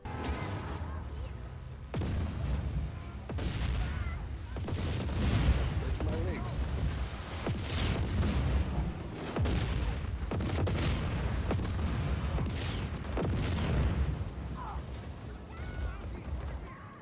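Continuous barrage of booming explosions and rapid gunfire in a Just Cause video game, loud and dense, with rumbling low blasts layered throughout.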